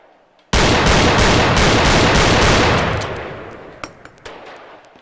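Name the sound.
Desert Eagle .50 Action Express shots in VR video game Gun Club VR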